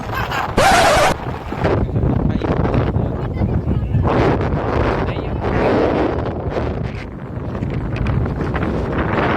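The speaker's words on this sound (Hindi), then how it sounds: "इतना हवा चलाते मौसम खराब हो गया।" Strong wind gusts blow outdoors during a family picnic outing, buffeting the microphone with loud, roaring rushes and a sharp blast near the start, while faint voices may be present underneath.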